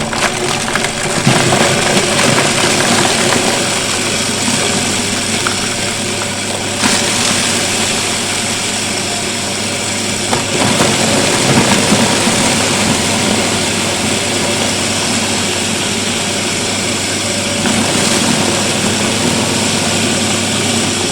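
A small livestock feed mixing and chopping machine runs steadily and loudly for the whole stretch, with a continuous motor drone and rough mechanical rumble, alone with no talk.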